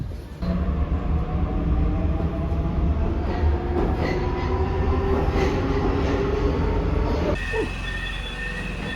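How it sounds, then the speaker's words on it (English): A Budapest metro train rumbles steadily through a tunnel, with rattling wheels, faint squeals and a shift in tone near the end; no voices. "Metro, man. Such a good method of transport."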